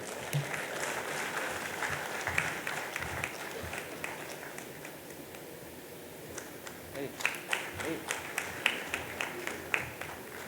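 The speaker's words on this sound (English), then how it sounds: "Can we have the applause, ladies and gentlemen?" Audience at a national cost and management accountants convention technical session applauds to welcome a speaker: fairly distant, soft steady clapping that thins out into scattered, sharper individual claps toward the end.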